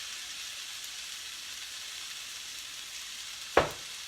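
Chopped onion frying in olive oil in a pan, sizzling as a soft, steady hiss with one sharp clatter near the end and no voices.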